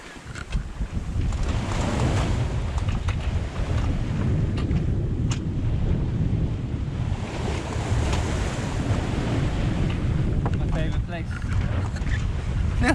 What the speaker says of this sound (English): The wind has come back.